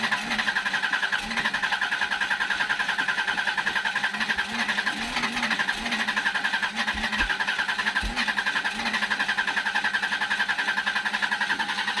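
Someone cranks the engine of Rita's car, which has an electrical problem and is not carbureted; a steady churning whir with a few low thumps runs for the whole stretch without catching, close by.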